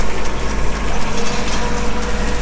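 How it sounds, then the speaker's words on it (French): A generator engine powering an irrigation boom over a maize field runs steadily and loudly throughout, with a dense, continuous mechanical drone and no voices. "vous entendez un moteur, c'est un groupe électrogène qui va faire avancer toutes les trémies grâce à l'électricité"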